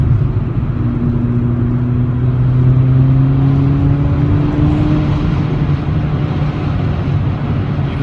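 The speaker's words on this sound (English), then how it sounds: "You heard that exhaust note and that pop and crackle?" Mercedes-Benz CLA45 AMG exhaust note drones loud and close, a rising whine sweeping up through the middle before settling into a steady rumble; distinct pops and crackles are not clearly picked out.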